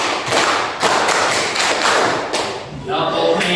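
Several sharp hand claps in a steady counted rhythm ring out during an Islamic religious-education classroom lesson, close and fairly loud, with a voice speaking between and under them.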